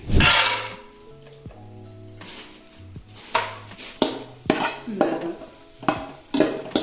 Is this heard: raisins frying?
yes